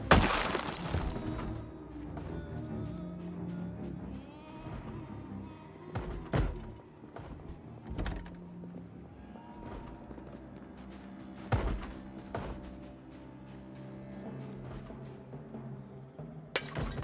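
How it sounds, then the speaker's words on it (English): In the Project Zomboid video game, a door rattles and thuds under zombie blows, with sharp knocks and thumps landing at irregular intervals over a steady game background, and one loud crash at the start. "That door is shaking."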